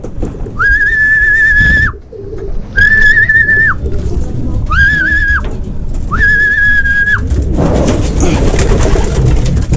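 Four repeated whistled calls ring out near a racing pigeon loft as a blue bar racing pigeon arrives from a derby race, each call steady and sustained, over a constant low rumble that swells into broadband noise at the end.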